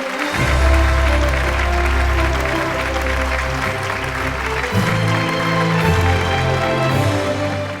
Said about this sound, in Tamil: ஒரு மிகப்பெரிய கைத்தட்டல் கொடுக்கலாம்.